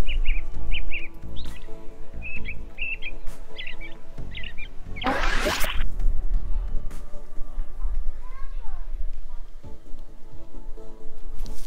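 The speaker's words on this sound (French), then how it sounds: "l'oiseau qui est juste derrière moi, ça c'est un rouge-gorge" A robin sings behind a person outdoors in spring, its short, bright phrases repeating at moderate distance with pauses between them; a voice talks over much of it and a brief loud rustle interrupts midway.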